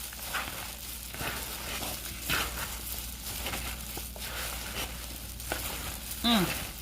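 Saltfish and other ingredients being stirred together in a sizzling frying pan, giving a steady crackling fry with occasional scrapes and clinks of the utensil, close and alone.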